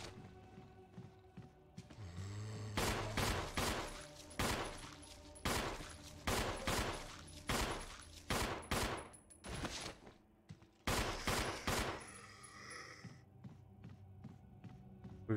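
Handgun shots fired at zombies in Resident Evil HD Remastered with the Samurai Edge pistol, about a dozen loud, separate reports spaced a second or less apart, with mechanical clicks in between.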